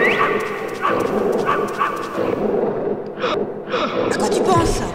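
Wolves in the video game Metal Gear Solid bark and yip in repeated bursts, fairly close and loud, with a person talking and gasping over them during play.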